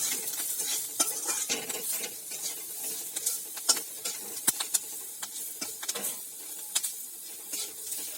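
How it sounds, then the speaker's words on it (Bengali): Onion, chilli and garlic frying with salt and turmeric in a pan, stirred with repeated scraping clicks over a soft sizzle, close and fairly quiet with no talk. "এটাকে একটু নেড়ে চেড়ে ভেজে"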